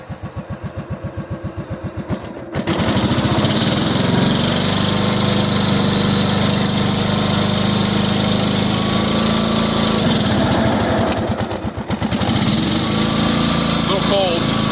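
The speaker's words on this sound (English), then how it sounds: "What you're hearing that whine is the gear system or the clutch system and the transmission." Cub Cadet 2130 lawn tractor engine running loud and steady in cold weather around 35 degrees, with the gear, clutch and transmission whining, after a brief choppier idle at the start and a short dip near the end.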